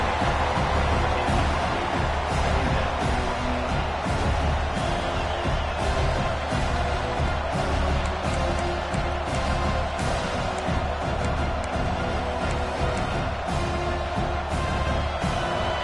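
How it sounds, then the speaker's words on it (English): A large American football stadium crowd in a video game roars continuously before a red zone defensive play, a dense steady wall of cheering and noise with no pauses, no distinct voices standing out. "This crowd is trying to inspire this defense to make a big red zone stop."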